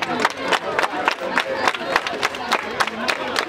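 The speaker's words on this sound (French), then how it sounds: "notre frère Baudouin Ayena, que je vous demande d'applaudir très fort" Crowd at a community event applauding and cheering, with regular loud claps and shouts layered over voices, sustained and near throughout.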